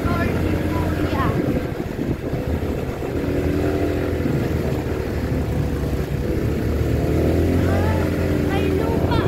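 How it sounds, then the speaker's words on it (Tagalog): Lance 150 motorcycle engine droning steadily while riding over a rough, potholed dirt road, loud and continuous close by, with people talking over it. "Ang lakas talaga ng motor ni Kuya."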